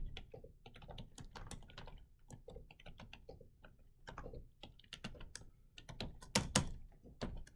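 Rapid, irregular keyboard typing with clicky keystrokes in bursts, close by, with a few louder taps near the end and no talking.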